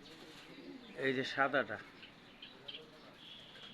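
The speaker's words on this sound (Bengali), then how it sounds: "আর এইটা হলো অস্ট্রেলিয়ান ঘুঘু" A white Australian dove in a rooftop garden gives a few faint, soft coos, partly under a nearby voice talking quietly.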